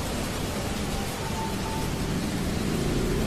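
Steady rain falls during a motorcycle ride on a modified Yamaha Vixion, a dense, even hiss of rain and road wash with no talking.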